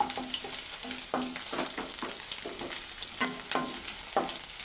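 Tempering spices frying in a pan, a steady close sizzle with repeated scraping stirs in an uneven rhythm, fairly loud and without talk.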